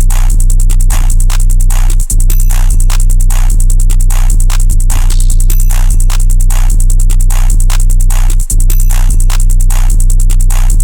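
Trap drum loop in an Osamason-style beat made in FL Studio, with a heavy sustained 808, rapid ticking hi-hats, an open hat and crisp percussion hits repeating in a steady, loud, dense pattern with no voices.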